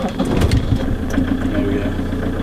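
Van engine started after its preheating cycle in below-freezing weather, with the engine turning over and settling into a low rough idle, close by, as a voice speaks over it.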